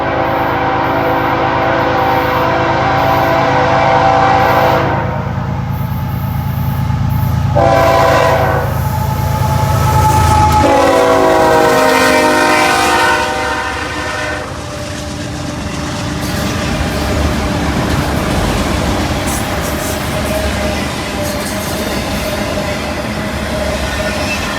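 Norfolk Southern intermodal and autorack freight train of loaded cars, led by two BNSF locomotives, rolls past loud and close in Georgia, its horn blaring in long tones over the rumble before the rattle of passing cars takes over.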